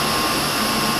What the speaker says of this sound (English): Pushing the green button to start the machine